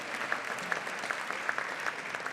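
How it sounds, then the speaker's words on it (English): An audience at an education service honors ceremony applauds steadily, a dense patter of many hands clapping with a few sharper individual claps standing out, heard from within the room. "big round of applause for that"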